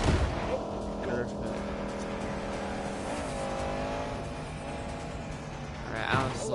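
Racing car in a video game speeding around a racetrack, engine tone rising and falling steadily with brief screeches, continuous and fairly loud throughout.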